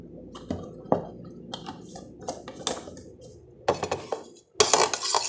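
Ingredients being mixed in a pot while cooking kura-kura, with repeated metal clinks and scraping of a utensil against the pot, fairly close, in irregular bursts that get louder near the end.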